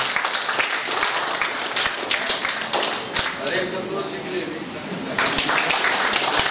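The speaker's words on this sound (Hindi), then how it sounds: "एक अपने लिए जोरदार तालियां" Dense, loud applause from an audience at a stage event for a film release rolls on continuously, briefly thinning in the middle before surging again.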